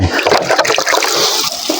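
Fertilizer drench poured over celery plants, wetting stems and leaves, a close, continuous splashing and spattering of water with uneven bursts, fairly loud and without speech.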